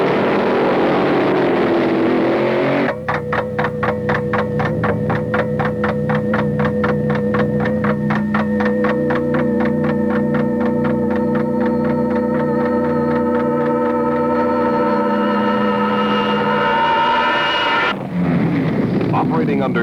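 Drag racing cars from 1969 roar down the quarter-mile strip, a loud, steady engine drone with strong harmonic tones holding for about fifteen seconds before cutting off, with a voice narrating around it.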